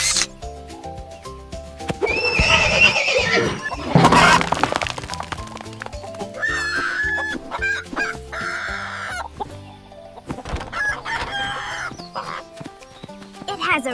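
Chicken clucking mixed with a busy music track, with some sharp cracking noises partway through; no one speaks.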